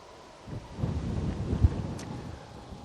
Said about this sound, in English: Very warm tropical wind blows now.